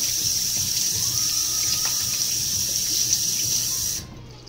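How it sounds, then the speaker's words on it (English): A kitchen tap runs steadily as hands are washed at the sink while making Italian meatballs, a continuous close splashing hiss that cuts off abruptly near the end. "We're going to do a quick hand wash right here."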